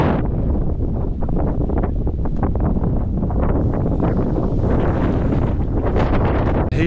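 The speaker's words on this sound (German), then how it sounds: "Der Wind wird schlimmer." Strong, loud wind roars and buffets the microphone continuously on an exposed mountain summit on Senja island, with rain approaching, gusting throughout.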